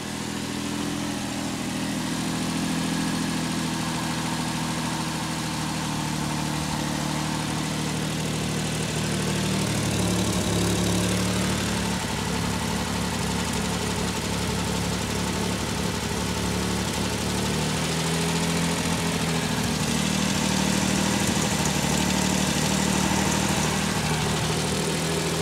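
A Ford Sierra Mk1 estate 4x4 Ghia with a 2.8 engine idles steadily with an exhaust blow, a loud, constant low rumble running alone for the whole stretch with slight surges partway through.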